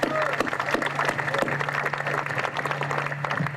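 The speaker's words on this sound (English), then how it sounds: "Give him another round of applause for his great leadership" Applause from a crowd at an outdoor dam removal ceremony, fairly loud clapping mixed with a steady low hum and some crowd noise.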